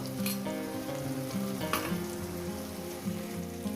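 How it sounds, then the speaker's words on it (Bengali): Masala fried in a pan after onions, with the water from rinsing the spice-grinding bowl added, a loud continuous sizzle and crackle throughout, with some stirring. "মশলার বাটি দেওয়ার জলটা দেব"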